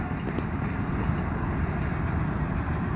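Millat Express passenger train pulling into a railway station platform, a steady loud low rumble of wheels and rolling stock that holds constant throughout with no break.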